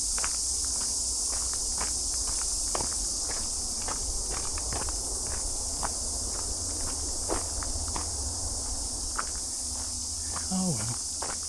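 Cicadas in a New Zealand forest on Auckland's Upper Nihotupu Track keep up a constant high shrill drone, with scattered clicks, footsteps and rustling close by and a brief voice near the end.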